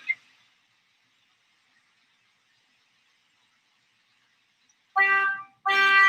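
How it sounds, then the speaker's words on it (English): Two loud, close horn honks from a restored car with redone electrics and a new power steering system, sounding back to back after a stretch of near silence. "Honking the horn, electrics work."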